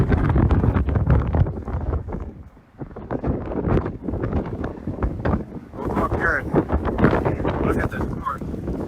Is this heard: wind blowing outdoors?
yes